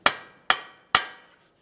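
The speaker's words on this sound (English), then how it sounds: "we'll continue with a hammer and punch directly in the center of the axle," Three sharp metallic hammer blows strike a punch against the center of a front axle on a 2013-2020 Ford Fusion to separate it from the wheel bearing, each ringing briefly and evenly spaced.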